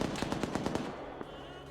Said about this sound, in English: Hearing some heavy calibers going off.